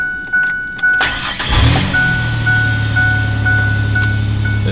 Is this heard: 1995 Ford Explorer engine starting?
yes